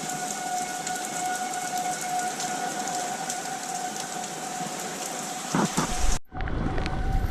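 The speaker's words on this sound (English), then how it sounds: "Siren's still going." A tornado warning siren wails steadily as a faint held tone beneath a dense, loud roar of torrential storm rain, with a brief rustle and a sudden cut near the end.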